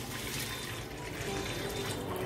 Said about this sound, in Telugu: okay litre नीळ्लु पोसुकोवालि